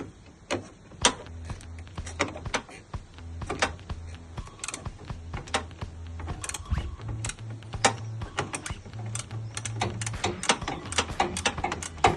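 Socket tool turning a fitting on a Nissan Altima during air conditioning radiator replacement, with close irregular ratcheting clicks and mechanical creaks in uneven bursts, no talking.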